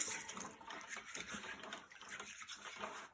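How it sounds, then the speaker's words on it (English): A squeegee sloshes in a bath of water during chalk-ink screen cleanup, giving soft, continuous splashing and trickling close by, fairly quiet, with no talk. "we're going to just put our squeegee in the bath of water"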